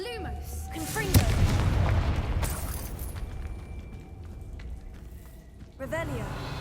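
Confringo spell blasting in Hogwarts Legacy, a fiery explosion that bursts loudly near the start and rumbles on in a heavy low roar, with a voice calling out over the blast.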